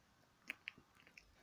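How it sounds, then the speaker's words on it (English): Chewing gum worked close to the mic while trying to blow bubbles: a few soft, sharp smacks and clicks spaced unevenly over a very quiet background, with no talking. "trying to blow bubbles with chewing gum just don't work"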